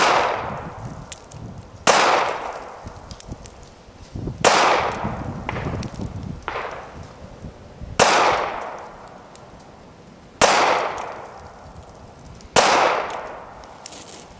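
Six sharp, loud gunshots from a Ruger LCP .380 pistol, spaced roughly two to three seconds apart, each with a quick ringing decay and faint metallic pings between shots.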